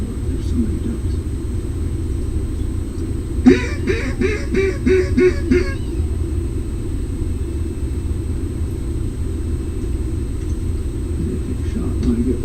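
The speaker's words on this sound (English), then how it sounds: "That's a lot of ducks." Near the start, a quick run of about six nasal duck quacks, mallards among them, sounds over a steady low rumble. The rest is mostly the rumble.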